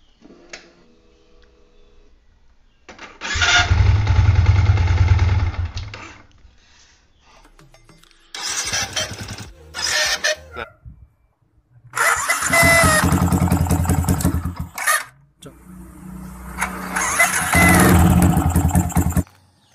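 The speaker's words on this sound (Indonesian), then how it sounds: "ya suara yang berasal dari dinamo starter" Several loud bursts of a Yamaha Vixion motorcycle's starter motor whirring and grinding as the engine is cranked, separated by pauses, with mechanical clatter close by.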